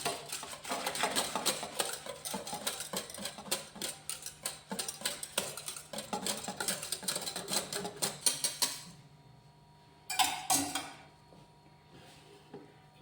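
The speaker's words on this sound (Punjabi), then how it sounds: "ਤੁਸੀਂ ਮਿਕਸਰ ਦੇ ਨਾਲ ਇਹਨੂੰ ਚੰਗੀ ਤਰ੍ਹਾਂ ਨਾਲ ਮਿਕਸ ਕਰਨਾ ਹੈ" An electric mixer churns curd in a home kitchen with a rapid, rattling mechanical whir that runs for about nine seconds, stops, then comes back in one short burst.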